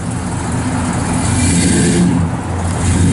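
A 1966 Dodge Coronet 500 with a 383 engine drives along the road, a steady loud rumble of engine and road noise with slight swells, heard from close by without talk.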